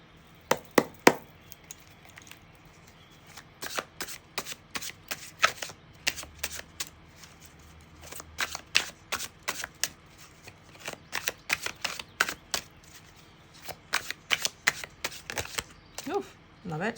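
Oracle cards are shuffled in a long run of quick, crisp riffling bursts, close and fairly quiet, with a brief soft voice near the end.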